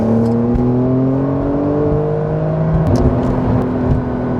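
A 2021 Porsche 911 Carrera 4S engine pulls hard at full throttle, a loud steady drone that rises through the revs, then drops and climbs again after a gear change near the end.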